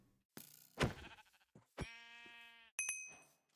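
Sheep bleating in Minecraft at night, several wavering bleats one after another, fairly loud with brief pauses between them.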